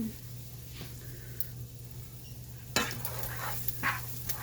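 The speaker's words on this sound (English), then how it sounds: "Give all that a stir" A spoon stirring chili in a pot over a low steady sizzle, with soft scraping strokes and a few louder clinks and scrapes in the second half.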